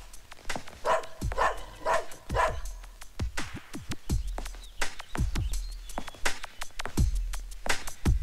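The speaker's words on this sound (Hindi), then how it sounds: "क्यों भौंक रहा है? घर में कोई दूसरा कुत्ता आया है?" A dog inside a house barks repeatedly in short, sharp bursts at an irregular pace, close and fairly loud, with faint bird chirps in the background.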